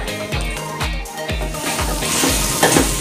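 Chopped beef for Padang-style gulai cincang is stirred in a small frying pan with gulai spice paste, giving a loud close sizzle broken by repeated scraping strokes of a utensil against the pan at a steady rhythm.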